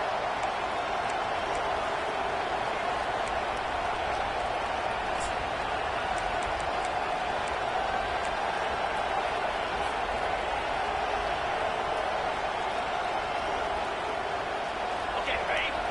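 Stadium crowd cheering in the College Football 25 video game, a steady broad roar sustained throughout as a defense tries for a red-zone stop, with commentary speech running over it.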